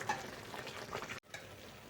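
Soft bubbling and sizzling from water boiling in a pan of vermicelli, faint and continuous, heard up close with no speech.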